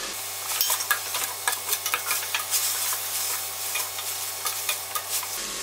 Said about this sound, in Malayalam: ഒന്നുകൂടെ വഴറ്റുക